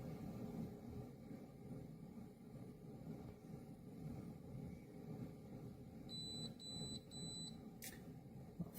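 A COTGCO portable espresso machine with a nearly flat battery sounds three short, high beeps in a quick evenly spaced row, clear over a low, steady hum from the running machine.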